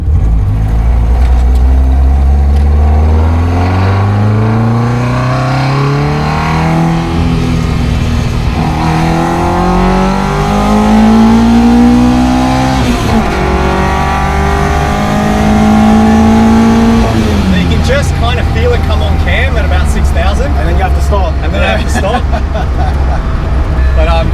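A light Toyota KP60 Starlet with a 4A-GE engine revving hard, loud and close, its engine note climbing repeatedly through the gears with brief drops between pulls toward an 8,000 rpm limit, then settling into a lower steady drone.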